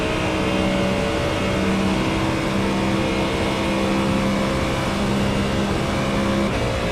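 GT3 race car in a racing simulator game at Daytona, its engine droning steadily at sustained high revs with a brief shift change near the end, loud and continuous with no talking.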